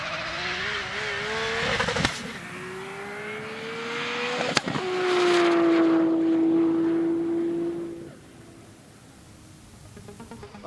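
A Nissan GT-R street car on high boost accelerates hard down a runway, its engine note climbing steadily in pitch, loud and close with a rising whine, then dropping away sharply as it passes into the distance.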